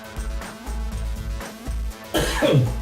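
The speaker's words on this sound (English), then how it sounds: "now I'm coughing" Several harsh coughs in a row, close and loud, with a throat-clearing rasp toward the end.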